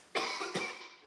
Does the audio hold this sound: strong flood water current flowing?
no